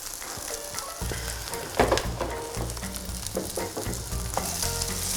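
Vegan gluten-free zucchini fritters frying in a pan: a loud, close, continuous sizzle with crackling bursts and a low bubbling texture, an occasional spatula tap, no voices.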